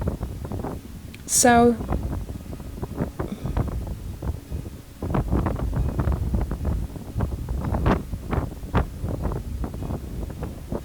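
Gusty coastal wind at Barry Island buffets the microphone in uneven rumbling bursts, with a brief high squeal near the start and a single spoken word.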